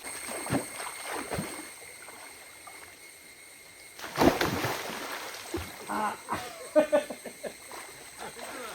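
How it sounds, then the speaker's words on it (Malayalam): A forest stream flows and splashes, with a sharp splash near the middle and irregular sloshing and bursts of water afterward, while a voice is heard at times over the steady flow. "കാട്ടരുവിയാണിത് നോക്ക"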